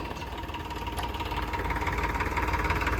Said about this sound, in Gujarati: ટ્રેક્ટર ચાલુ થઈ ગયું છે.